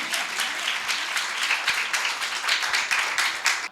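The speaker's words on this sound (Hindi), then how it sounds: "जोरदार तालियां" Loud, sustained applause from an audience at a Christian television anniversary celebration, dense clapping rolling steadily for several seconds without pause.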